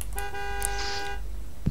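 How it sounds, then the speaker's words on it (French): A car horn sounds in the racing game Forza Horizon 3, one sustained tonal honk about a second long over a low engine hum, followed by a short burst of noise. "je peux klaxonner"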